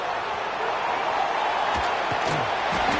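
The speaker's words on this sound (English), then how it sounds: "the crowd really making some noise now, trying to help out this defense to get this stop near the goal line" Stadium crowd roaring steadily in an NCAA 25 football video game during a goal-line defensive stand, a loud continuous wash of massed voices with a few brief thumps rising above it.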